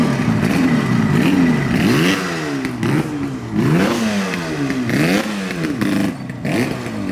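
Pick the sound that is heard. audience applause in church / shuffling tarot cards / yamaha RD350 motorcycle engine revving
yamaha RD350 motorcycle engine revving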